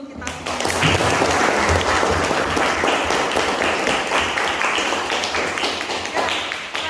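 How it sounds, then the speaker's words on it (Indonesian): A high-school class applauds together after finishing group presentations, a dense, loud, sustained clatter of many hands that fades slightly toward the end, with voices mixed in. "tepuk tangan dulu untuk kita semua"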